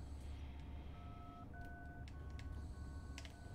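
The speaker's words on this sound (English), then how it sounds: "I hear a phone." Electronic phone ringing in the Kino Der Toten map of Call of Duty Zombies, a few short tonal beeps that are faint and distant over steady low game ambience.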